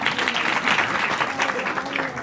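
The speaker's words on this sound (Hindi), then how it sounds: "ऑडियंस ताली बजाएगी भाई" A small informal audience claps in a quick, uneven patter with a loud presence close by, while a faint murmur of voices runs underneath.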